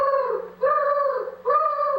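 A human voice imitates a pigeon's coo in three sustained, warbling hoots separated by short pauses, close and clear with no other sound.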